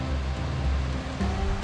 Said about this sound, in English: you can hear the water just over there